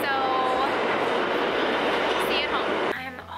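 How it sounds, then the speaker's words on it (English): A train arrives at a station with a loud, steady rumbling roar and screeching wheel tones that ease off near the end, while people talk faintly in the background. "Our train's coming"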